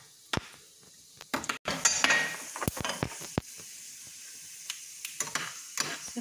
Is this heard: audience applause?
no